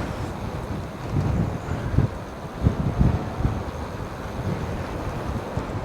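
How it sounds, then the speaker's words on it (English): Wind buffets a Rode wireless microphone steadily, a low rumbling roar with gusty swells throughout and no voices. "it's quite windy."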